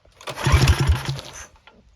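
A budget minibike's small single-cylinder engine, fitted with an upgraded carburetor and exhaust, sputters and chugs briefly during a choked start attempt, a rough burst of about a second and a quarter that dies away.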